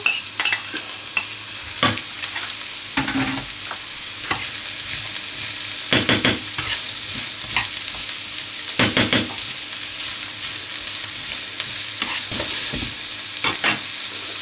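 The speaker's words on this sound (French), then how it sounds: "on va les laisser tranquillement roussir" Onion, garlic and squash frying in a pan in a loud, steady close sizzle, broken by repeated crackles and a few clacks of a spoon.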